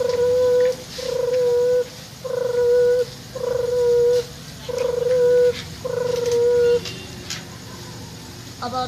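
A girl imitates a dove's cooing with her voice, giving six evenly spaced, steady hooting notes with short pauses between them, close and clear.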